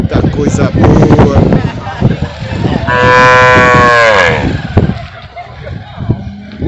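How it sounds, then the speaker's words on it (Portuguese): Cattle moo in a long, loud, drawn-out call at a livestock show in São Benedito, Ceará, the bellow rising out of a noisy crowd with people talking before and after it. "Duas vacas ali também, ó."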